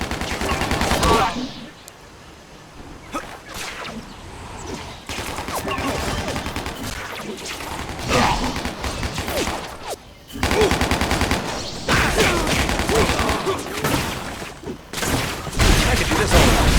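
Gunfire in Spider-Man: Shattered Dimensions, with loud bursts of rapid machine-gun fire in repeated volleys separated by short gaps, close and dense, with game voices mixed in.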